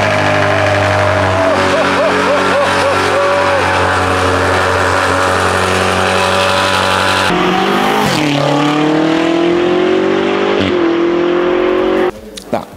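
A sports car with a complete Akrapovic exhaust and catless downpipes roars loudly, idling with a deep drone, then revving hard with rising and falling bursts; voices talk underneath.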